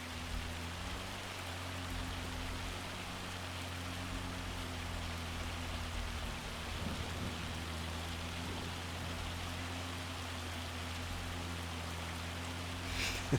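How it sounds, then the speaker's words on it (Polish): Rain in Farming Simulator 25 hisses steadily over a low droning farm machine engine hum, continuous and moderately quiet without talk. "idzie bardzo kiepsko w tym deszczu"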